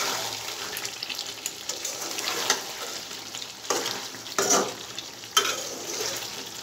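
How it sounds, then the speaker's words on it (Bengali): Boiled potato pieces, already fried with salt and turmeric, get stirred into a broiler chicken curry in a pan, Mezbani style. A steady sizzle runs under intermittent scraping stirs, several sharper clatters landing near the end, with no talking. "কিছু আলু দিয়ে দিলাম, দিয়ে আলুটা দিয়ে আবার কিছুক্ষণ কষিয়ে নিব"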